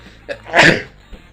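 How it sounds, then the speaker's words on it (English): A single close, sharp sneeze from a man, preceded by a brief inhaled catch and followed by a short quiet exhale. "Oh, I'm going to sneeze"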